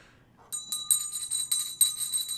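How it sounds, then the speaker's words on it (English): A small handbell shaken repeatedly, bright high metallic ringing in a quick series of pulses after a soft start, fairly close and clear with little else around it. "Clear some energy with our bell."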